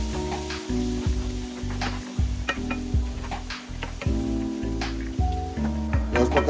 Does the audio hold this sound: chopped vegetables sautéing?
yes